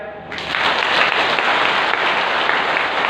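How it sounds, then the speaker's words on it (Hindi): A crowd at a Ganga aarti claps steadily and loudly with raised hands, a dense continuous wash of many hands applauding together without pause. "हाथ उठा के ताली बजाएं"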